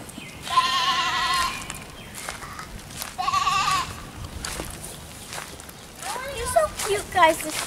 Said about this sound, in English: the sheep. I love sheep.